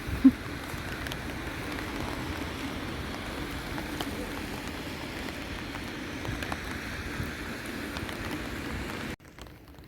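Steady rain patters on water at a lake or river shore in Schaffhausen in February, a dense, even hiss of drops that stops abruptly near the end.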